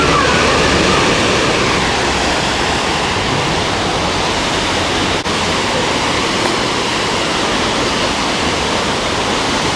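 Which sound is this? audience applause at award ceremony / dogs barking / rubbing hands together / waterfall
waterfall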